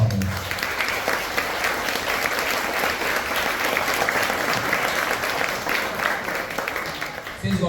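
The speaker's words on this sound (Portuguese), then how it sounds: "mais uma vez uma calorosa salva de palmas" A morning church school gathering gives a warm round of applause: loud, continuous crowd clapping that fills the room for several seconds, with a brief voice at the very start and end.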